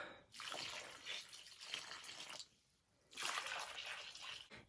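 Warm water is poured onto cucumber seedlings in a greenhouse in two separate bursts of soft splashing and trickling, close by and fairly quiet, with a short pause between them.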